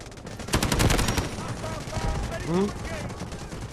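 Rapid automatic fire from the CI-19 rifle in the mobile shooter Delta Force Mobile, a dense burst of shots up front that thins into scattered fire and game effects, with a voice talking underneath.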